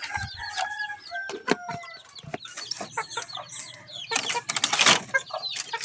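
Young chickens about two to three months old cluck and call close by, with wing flapping and a rooster-like crow among the busy, overlapping bird noises.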